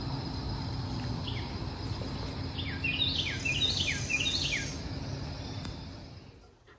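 Early-morning birdsong at an inn in Edgartown on Martha's Vineyard in autumn: several chirping bursts and quick tweets, moderately distant, over a steady insect drone and low ambient hum, fading toward the end.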